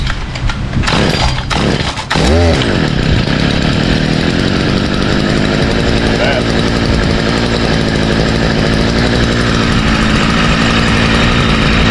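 A ten-year-old gas string trimmer cold-starts with a few sharp pull-cord bursts, then its small two-stroke engine catches and runs steadily, loud and close, with wind in the background.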